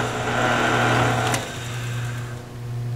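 A drill bit bores a hole in a wood screwdriver handle spinning on a lathe, a steady close whirring drone with a brief sharp scrape partway through, no talk.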